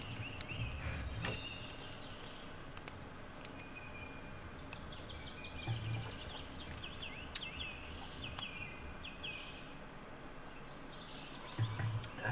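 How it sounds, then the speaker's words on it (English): Birdsong ambience in a modded Minecraft world, quiet scattered chirps and short tweeting calls over a soft, steady insect-like background hum, with no voices. "I love the birds. I love the ambiance."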